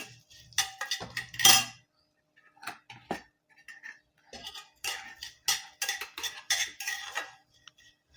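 Dry spices, including mustard seeds and coriander seeds, sizzle and crackle in a hot pan, with scattered bursts and clinks of a spoon scraping and stirring, close up and fairly loud.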